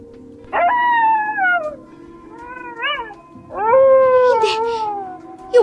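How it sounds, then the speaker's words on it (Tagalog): Several dogs howl in long rising and falling wails, loud and close, with overlapping voices in a drawn-out chorus and a brief pause between bursts, in a dramatized horror story about a creature attack in a rural setting. "Yung mga aso, nag-uumpisa na namang umalulong."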